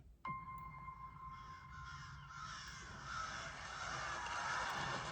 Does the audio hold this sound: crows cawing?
yes